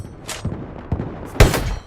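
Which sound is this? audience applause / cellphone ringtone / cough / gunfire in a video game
gunfire in a video game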